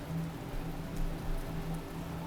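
Rain in the video game The Talos Principle, a steady even patter of falling rain with a low hum beneath, continuous and fairly soft.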